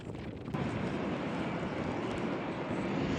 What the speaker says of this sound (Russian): На перрон заруливает самолет